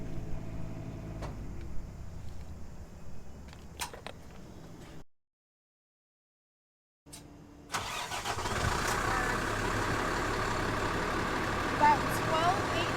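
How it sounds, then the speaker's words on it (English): RV engine cranking and starting after the generator is switched off; a steady hum, a brief dead gap, then the motor catches and settles into a loud, constant idle rumble. "we'll shut the generator off and start the engine"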